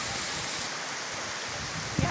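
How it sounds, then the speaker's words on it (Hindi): Heavy rain pours onto a back lawn in a continuous dense hiss of falling water, loud and close, with a faint vocal sound near the end. "बहुत तेज़ बारिश हो रही है।"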